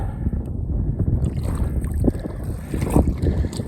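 Strong wind gusts across a remote mudflat shore, roaring and buffeting the microphone in a dense low rumble with some rustling, loud and close for the whole stretch.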